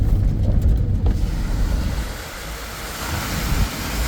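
Floodwater after two days of heavy rain rushes past in a loud, steady roar, broad and turbulent, with wind buffeting the microphone and no voices.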